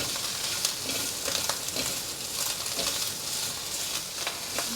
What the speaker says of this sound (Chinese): 持续的翻炒。